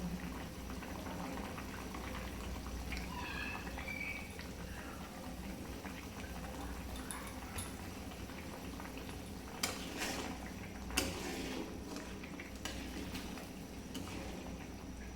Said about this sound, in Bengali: এখন জল ডাল ফুটে গেছে